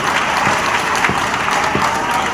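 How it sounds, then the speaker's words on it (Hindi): An audience at a devotional talk about Lord Ram claps together in a loud, sustained burst of applause, with a few sharper individual claps standing out from the crowd. "तालियां बजाओ।"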